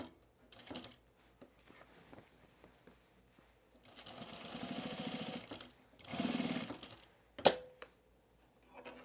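A sewing machine stitches thick pants fabric in short bursts of rapid mechanical whirring separated by pauses, with a sharp click near the end.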